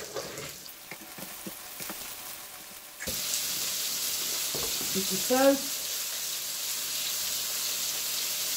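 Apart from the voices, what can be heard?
steak coated in flour frying in oil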